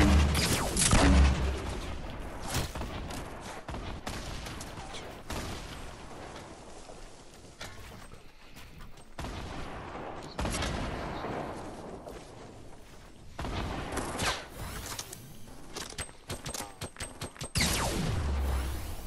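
Gunfire in the Fortnite Battle Royale game, loud bursts of shots and blasts scattered through a hectic stretch, with sharp cracks, dense volleys and a strong opening burst.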